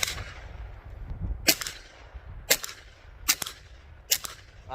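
Gunshots fired at a cardboard target outdoors, four sharp cracks spaced about a second apart over low background rumble.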